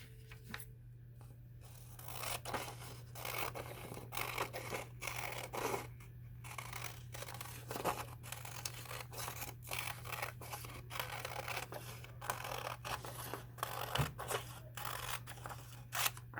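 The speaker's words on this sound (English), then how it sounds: "now I'm going to cut around the outside rainbow line" Scissors snip through paper with rapid, close, crisp cuts while trimming a pop-up card along an outline, with a steady run of short clipping strokes and no talking.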